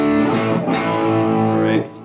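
Clean electric guitar through an amp with little gain and reverb and delay turned down, sustained chords ringing with a slight edge, then fading out near the end.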